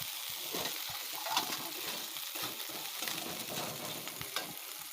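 Vegetable masala with turmeric and salt is stirred in a pan, the spatula scraping in quick rhythmic strokes over a dense, continuous sizzle. It sounds close and steady throughout, with no speech.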